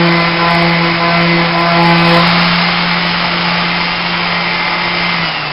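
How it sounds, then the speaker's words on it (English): A power sander fitted with 220 grit sandpaper smoothing the edge of an EcoTop countertop, giving a loud, steady motor whine with continuous abrasive hiss, close and unbroken, no talking. "got a 220 grit sandpaper on the sander here."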